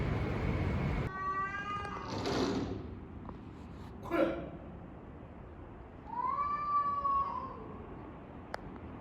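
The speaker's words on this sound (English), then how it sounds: "The beef between the 2 cats in the neighborhood were my only Japanese cultural experience during that time" Two neighborhood cats fight outdoors in Hiroshima, trading drawn-out yowls and wavering caterwauls at moderate distance, with short gaps and a few knocks between the cries over steady background noise.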